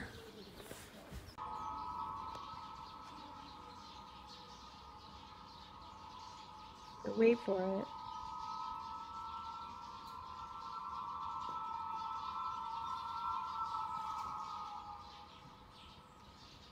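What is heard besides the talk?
pigeon whistles in flight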